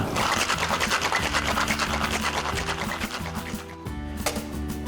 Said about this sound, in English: we'll dry shake it with egg whites, which adds a frothy foam